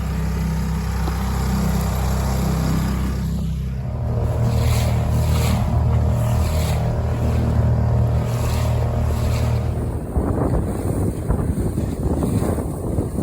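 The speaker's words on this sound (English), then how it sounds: "So I'm running the Honda at really low speed." A Honda outboard motor on an 18-foot Buccaneer sailboat runs at low speed with a steady low drone, mixed with strong wind buffeting and water noise.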